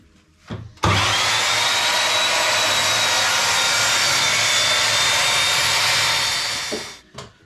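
A power saw cuts through a wooden board in a workshop, one loud continuous whine with a steady high tone lasting about six seconds, starting abruptly after a brief tap and winding down at the end.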